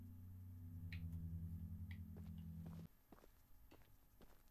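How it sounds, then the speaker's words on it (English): Footsteps in the horror game Choo-Choo Charles, several soft irregular steps heard after a steady low droning hum cuts out, moderately near and quiet. "I heard footsteps."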